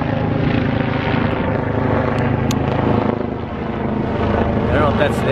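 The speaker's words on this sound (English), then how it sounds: "Got a helicopter. See him up here?" A Flight for Life medical helicopter flying overhead, its loud steady rotor chop and engine drone filling the air continuously, with a brief dip midway.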